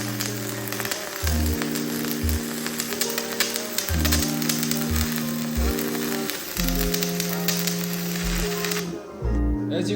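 Cheap $89 stick welder running a 1/8 inch 7018 rod, giving a steady loud crackling sizzle with harsh broadband spatter, interrupted by low electrical hum bursts, continuous until it cuts out near the end.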